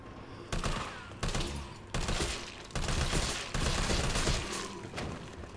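An AR-15 fires rapidly in Resident Evil 3 Remake, with loud sustained bursts of automatic fire separated by short pauses, about six bursts in a row, close and dominant.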